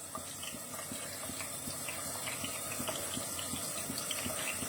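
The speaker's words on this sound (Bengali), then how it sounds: "তো আমার তেলও গরম হয়ে গেছে। ইন দ্য মিন টাইম আমি এবার পনিরের কিউবগুলো বসিয়ে দিচ্ছি।" Paneer cubes fry in hot oil, a faint, steady sizzle and hiss with small crackles running evenly throughout.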